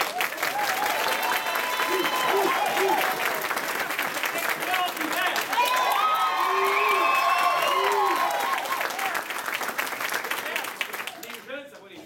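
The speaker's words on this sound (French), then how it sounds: "Maintenant, un applaudissement thermostat." Applause from a theatre audience at a dinner-theatre comedy show, sustained loud clapping with cheers and whoops rising in the middle, fading near the end.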